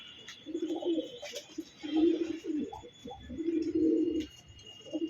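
Pigeons offered for sale coo in repeated low, throaty phrases near the microphone, three main bursts separated by short pauses, over a faint high background hiss.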